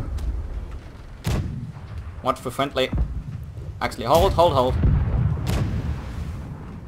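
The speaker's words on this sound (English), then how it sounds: "Right side cannons are keep on flying now." Ship cannons in the naval combat game Blackwake fire as a few heavy, booming blasts spaced apart, loud and close, with voices talking over and between the shots.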